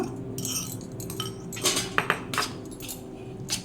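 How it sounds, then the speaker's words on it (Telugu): A cup of curd is spooned into cooled rice, producing a busy run of metallic clinks and taps of a spoon against a steel vessel, several close and bright, with no talking. "అలాగే ఇందులో ఒక కప్పు పెరుగు వేస్తున్నాను నేను"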